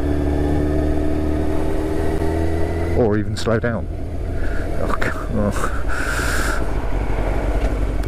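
A Yamaha YZF600 Thundercat motorcycle engine runs with a steady, low throb on the road, while someone talks over it and a few brief sharp bursts cut in.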